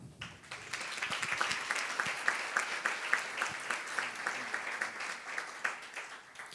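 An audience at a school keynote event in Chile applauds steadily, with many hands clapping together in a sustained, moderately distant round that rises slightly and holds without fading.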